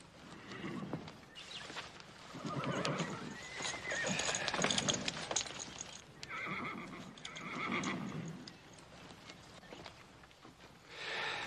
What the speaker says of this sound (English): Dolly, slap a saddle on this black horse